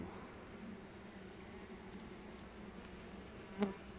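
Honey bees buzz steadily throughout a beehive inspection, a dense, continuous drone close by with one brief louder swell near the end; no one speaks.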